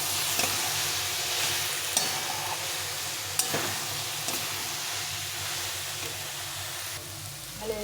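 Potatoes and soybean chunks stir-frying in a pan, a continuous sizzle with occasional sharp scrapes and clacks of the spatula stirring, close and steady with no talking.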